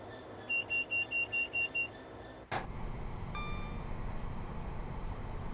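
Train on the Birmingham Cross City line in Train Sim World 6, with Class 66 freight locomotives around: a run of seven short electronic beeps, then a sharp burst followed by a steady low rumble, fairly faint and without talk.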